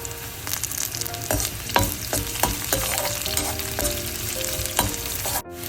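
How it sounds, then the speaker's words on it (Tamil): Garlic and fenugreek seeds fry in oil in a pan for brinjal curry, a loud close sizzle broken by repeated clicking stirs and scrapes of a spoon against the pan. "இப்போ இந்த உள்ளி கொஞ்ச நேரம் பொரிஞ்சு வந்து"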